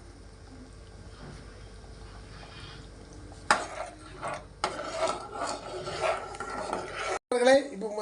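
Cooked rice for puliyodharai is tapped and stirred in a pot with a utensil, giving a quiet rasp at first and then louder scraping and knocking from midway on, with a short break near the end.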